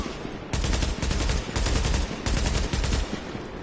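Automatic weapon fire in The Division, with heavy recoil: loud, close bursts of rapid shots, about five long volleys separated by short pauses, with no talking over them.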